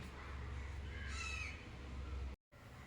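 A crow caws a few times at moderate distance, short hoarse calls rising briefly over a steady low outdoor hum, with no voices.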